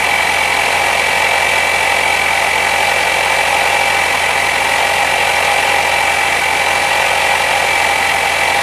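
The engine of a 1968 Gravely 430 tractor runs loud and steady at close range, a constant droning hum with no breaks and no talk.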